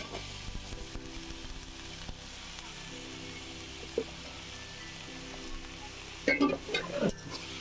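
Shrimp and vegetables stir-frying in a hot pan give a low, steady sizzle, with a few sharper scraping and clattering stir strokes near the end.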